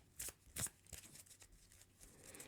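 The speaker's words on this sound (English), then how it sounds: "I don't know why I'm shuffling my discard pile" A discard pile of Marvel Champions cards being shuffled, with quiet, close riffling and a few sharper card snaps, then softer rustling.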